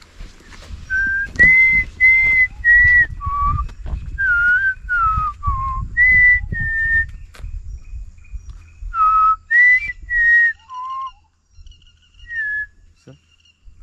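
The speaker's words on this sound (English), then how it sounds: "That's called as Malabar whistling thrush." A series of clear, melodious whistled notes of a Malabar whistling thrush, rising and falling in short phrases, with pauses between, over low rumbling background noise and some murmured talk, in Coorg.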